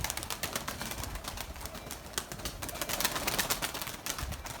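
Pigeons in a coop coo and stir in a steady, busy wash of sound with occasional fluttering, fairly close and continuous throughout.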